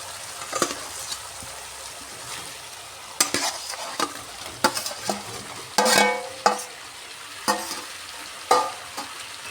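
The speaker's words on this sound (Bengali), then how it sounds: "এবার এর মধ্যে ভেজে রাখা আলু ফুলকপি এগুলো দিয়ে দিচ্ছি" Fried potatoes and cauliflower are stirred in a sizzling pan, with a soft frying hiss underneath and repeated scraping strokes of the spoon coming in irregular bursts, and no talking.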